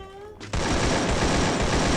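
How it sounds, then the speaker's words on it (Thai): Dense, sustained video-game gunfire bursts in abruptly after a quiet half-second and continues loud and unbroken, with faint talk beforehand. "ใช่มันยิงมีคนยิงมัน"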